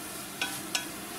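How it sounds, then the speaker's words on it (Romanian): Onions softening in a pan for a stuffed chicken filling give a steady, close sizzle, with two brief stirring scrapes of a utensil cutting through the frying hiss; no one speaks. "Călim ceapa pentru împlutură"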